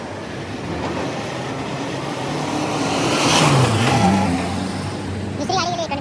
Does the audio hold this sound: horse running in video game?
no